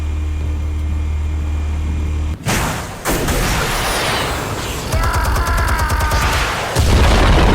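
Explosion in the video game Batman: The Telltale Series: a loud boom with a rumbling low-end tail, followed by crackling debris and rising metallic tonal effects, alone without speech.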